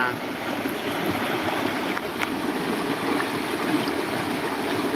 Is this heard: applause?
no